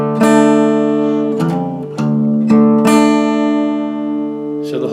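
Acoustic guitar playing a chord pattern, strings plucked in pairs in a repeating rhythm of several bright attacks that ring and overlap, close and fairly loud, with no talking.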